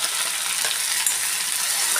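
Ground spice paste (vatan) sizzling and frying in a pan with curry leaves over lowered gas heat, a steady close hiss with faint crackles throughout, no talking.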